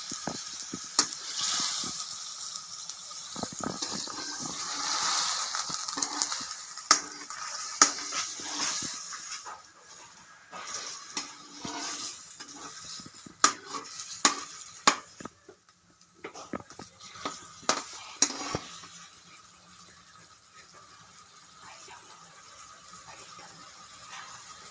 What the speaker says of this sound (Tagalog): So I'm gonna mix it.